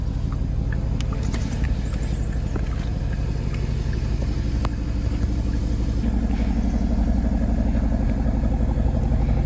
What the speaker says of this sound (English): we've got that awesome V8 grumble coming from the sport exhaust system